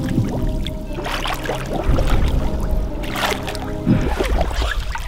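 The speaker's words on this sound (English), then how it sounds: "That's the sound of the oxygen coming out." Air bubbling out of a scuba tank underwater, dense continuous gurgling and burbling bursts up close, rising and falling in irregular surges.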